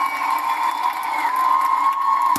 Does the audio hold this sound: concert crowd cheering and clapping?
yes